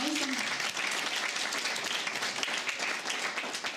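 An audience claps in a dense, continuous burst of applause to greet Nevena Džaja at a promotion event, and it holds steady throughout.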